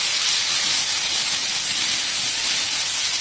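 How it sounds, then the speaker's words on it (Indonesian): Shrimp fry in a pan with butter and garlic, giving off a steady, loud, unbroken sizzle with no talking. "Lalu goreng sampai matang udangnya, tapi jangan sampai kering ya"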